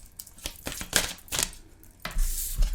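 Tarot cards shuffled close up in several quick, papery riffling bursts with short pauses between them, with no voices.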